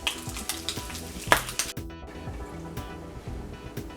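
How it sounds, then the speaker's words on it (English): Bacon frying in a pan, a crackling sizzle with sharp pops and a few clattering stirs, close and steady throughout. "Cook up your bacon."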